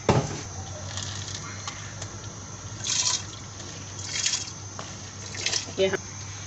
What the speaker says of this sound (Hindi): ये हमने पानी डाल दिया।